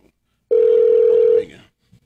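A single steady electronic tone, loud and close, holds for about a second before cutting off, like one ring or ringback on a phone line.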